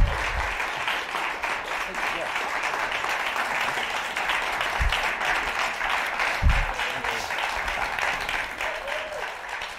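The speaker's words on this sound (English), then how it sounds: "It's a cheering section here, Lawrence." Sustained audience applause fills the room as a guest, Lawrence O'Donnell, is brought onto the stage at a moderated talk event, steady and dense clapping throughout with a couple of low thumps.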